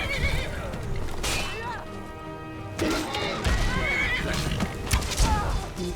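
Horse neighing in the video game Skyrim, a loud whinny rising over clattering hooves and game combat noise, with someone talking in between.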